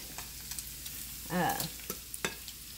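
Bacon sizzles in a pan over medium-high heat, a low steady crackle broken by a few sharp scrapes and clinks as it is stirred around, with one louder scraping swirl in the middle.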